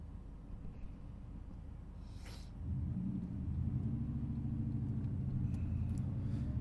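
A 1993 Chevy Suburban with the 5.7 V8 pulls out from an intersection, its low engine rumble swelling and staying steady as the truck gets underway, faint and close inside the cabin.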